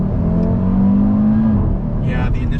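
Audi RS3 accelerating hard from the cabin, with a loud engine rising in pitch, then a gear change from second to third partway through. Passengers talk over it.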